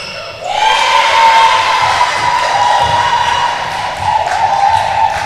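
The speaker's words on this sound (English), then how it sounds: "Great cheer from the bench." Loud, sustained cheering and crowd shouting from a netball team bench at a Europe Netball Open Challenge match between Cayman Islands and Malta, starting abruptly and holding steady with a brief swell near the end.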